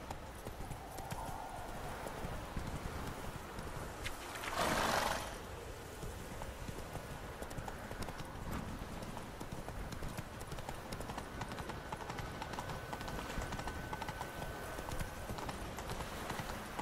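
Hooves of Roach, the horse in The Witcher 3, clip-clopping at a steady walking rhythm under a low ambient game soundscape, with a brief louder rush partway through.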